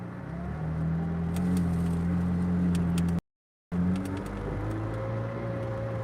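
A McLaren Senna engine idles steadily close by with a low hum as the car pulls over, briefly cutting out midway, while faint birdsong chirps in the background.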